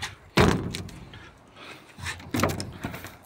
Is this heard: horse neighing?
no